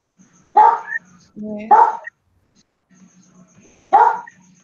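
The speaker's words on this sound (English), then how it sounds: "There is a dog." A dog barks a few times in the background, short sharp yaps spaced apart, while a person speaks briefly nearby in a quiet room.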